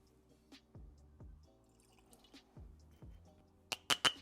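Laphroaig 10 Scotch whisky being poured into a glass, a few slow glugging drips and liquid plops spaced apart, ending with brighter clinks near the end.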